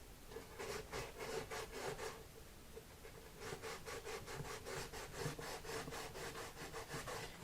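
Dampened wax is smeared inside the soundhole of a Martin guitar, making close, rhythmic scraping strokes on the wood in two bursts separated by a brief pause, with no talking.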